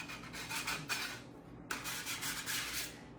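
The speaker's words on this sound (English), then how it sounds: "You should scrape this down" Rasping scrape of a tool drawn across the cut face of a bar of gelled soap fresh from a black box mold, two close, steady passes separated by a brief pause.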